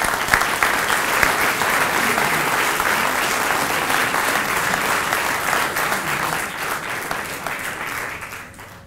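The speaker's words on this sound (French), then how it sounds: "Et je pense qu'on peut les applaudir." A hall audience applauds during a university president's 2014 New Year address in Perpignan, sustained, full crowd clapping for nearly nine seconds that holds steady and then thins out slightly toward the end.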